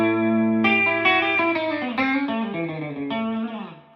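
A B-Bender electric guitar on the bridge pickup, volume and tone wide open, played through a Fender Pro Reverb amp: a sustained bright chord followed by a sequence of plucked notes that bend and ring, clean and alone.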